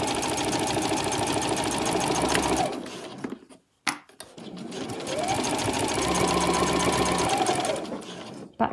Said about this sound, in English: Back stitch to end.